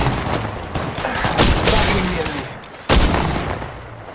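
Gunfire in the mobile battle-royale game Apex Legends Mobile: rapid, loud bursts of automatic shots and sharp impacts, with a heavy blast near the end, over continuous game noise.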